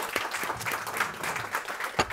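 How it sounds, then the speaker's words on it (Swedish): Audience applauding a professor emeritus welcomed at a school education seminar, a steady patter of claps with a few sharper accents, moderately loud and without talk. "Vi ger även Erik en applåd här."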